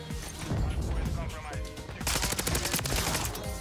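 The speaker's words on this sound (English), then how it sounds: "He's running dual pistols." Rapid pistol fire from dual-wielded handguns in Modern Warfare 3 multiplayer, dense overlapping shots through the first half, then a sharper burst of distinct cracks in the second half, with a voice talking over the gunfire.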